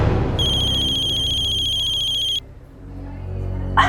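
A telephone rings with a bright electronic tone late at night indoors, steady for about two seconds before cutting off, leaving a low room hum and a brief clatter at the end.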